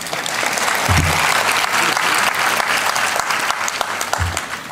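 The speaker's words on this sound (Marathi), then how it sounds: "टाळ्या फार कमी पडल्या" A lecture-hall audience at an evening lecture series claps steadily for about five seconds, a dense, even patter with no voices over it.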